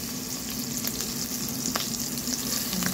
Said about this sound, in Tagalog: Ilalagay ko na yung aking sibuyas.